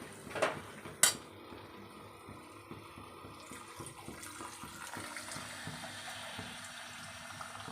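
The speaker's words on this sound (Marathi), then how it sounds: "आता मी याच्यात पाणी टाकणार आहे" A pan clinks once, then a faint, steady hiss of water being poured into a pan of elephant-foot yam curry runs on quietly beneath the room.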